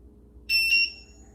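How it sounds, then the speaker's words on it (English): A single short, high-pitched electronic beep from a speed guardian clone buzzer relay, about a third of a second long, over a faint low hum. "the LED flashes and it relays the beep"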